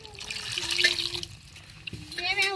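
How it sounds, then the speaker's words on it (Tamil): Water poured into an egg kulambu curry, a brief splashing pour heard close, with a voice talking over part of it. "தேவையான தண்ணி ஊற்றிக்கிறோம்"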